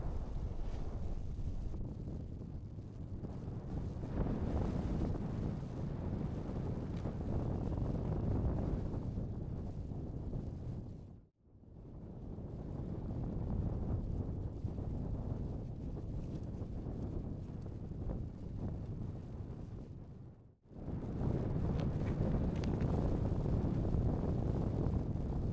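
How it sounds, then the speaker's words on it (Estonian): Strong wind sweeps over an iced-over river during ice fishing, a steady loud roar buffeting the microphone that cuts out briefly twice before surging back. "Tuul on täna jõe peal suht hull, õnneks puhub selja tagant"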